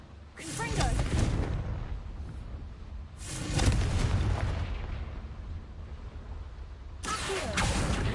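Confringo blasting spell from Hogwarts Legacy going off in three loud bursts, each with a sharp onset and a rumbling tail, spaced a few seconds apart, with voices speaking between them.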